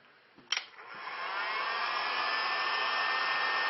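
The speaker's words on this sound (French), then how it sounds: "pour accélérer le processus, je vais sécher" A hair dryer blows on a repaired leather car seat: a click as it switches on, then a steady, loud, close whoosh of air that holds without a break.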